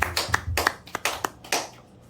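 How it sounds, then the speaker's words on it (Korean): Scattered clapping from a church congregation, several uneven bursts of hand claps close by, fading out toward the end with no talk over it. "하나님께 영광의 박수 올립니다."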